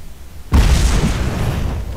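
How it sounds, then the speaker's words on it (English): A mortar blast in the video game Fable 3 lands with a sudden deep, loud boom after a quiet moment, then a rumbling roar that sustains and slowly fades, close and heavy. "Is that more mortars?"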